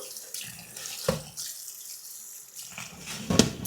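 Water runs from a tap in a steady broadband rush, with a few clinks and bumps of dishes or hands in the stream.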